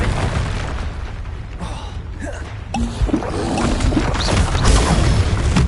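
Blasting-spell explosion in a Harry Potter wizard-duel video game, a booming burst that rises out of dense spell effects and keeps rumbling loudly through the rest of the clip.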